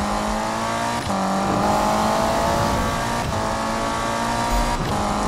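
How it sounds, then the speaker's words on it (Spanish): Turbocharged car engine in Need for Speed (2015) racing game, a steady loud drone with a rising rev swell and brief transient bursts, continuous throughout without talk. "Qué pedazo de turbo, loco."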